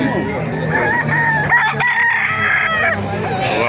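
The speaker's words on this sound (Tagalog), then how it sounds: "Papakita ko sa inyo mga manok dito" Roosters crow and chickens cluck close by at a crowded poultry market in Baliuag, Bulacan, with several birds calling over one another and people talking in the background.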